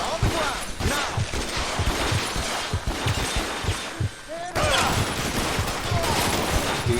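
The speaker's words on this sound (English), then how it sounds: "I fucking hate the shooting in this game" Rapid gunfire in the video game L.A. Noire, loud repeated shots in quick bursts that keep going over a busy game background, with a player's voice talking over the shooting.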